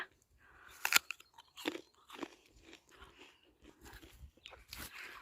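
Someone biting and chewing something crunchy, a few loud crisp crunches followed by softer irregular munching, close to the ear in a quiet outdoor setting, no talking.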